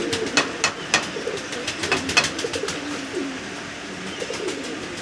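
Several female pigeons, including German Modena and Andalusian hens, coo in a loft, with soft repeated coos and wing or foot rustles close by, overlapping steadily without any talk.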